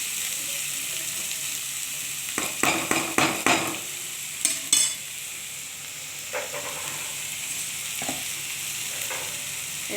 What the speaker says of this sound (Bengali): একটু পেঁয়াজটা ভালো করে ভাজা হয়ে যাবে।